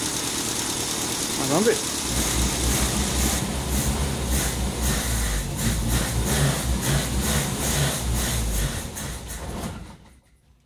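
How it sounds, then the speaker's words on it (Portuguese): A car engine running on Pinga 51 cachaça instead of fuel idles nearby with a steady low rumble that falters, then fades as it dies out, while a person speaks briefly over it. "a marcha lenta caiu um pouco"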